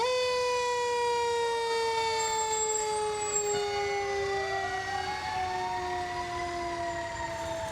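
Cochranton Volunteer Fire Department's second unit rolls past in a fair parade, its siren wailing steadily and loudly with slowly drifting pitch, the tone continuous throughout with no talk over it.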